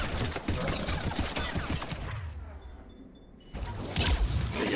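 Rapid bursts of heavy pistol fire in Mass Effect 3 crack out in quick succession, go quiet for about a second, then return loud and close.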